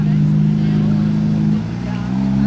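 A Lamborghini SVJ supercar engine on a cold start in Monaco near the casino: loud, steady low rumble of a high idle close by, dipping briefly and swelling again, with a voice talking over it.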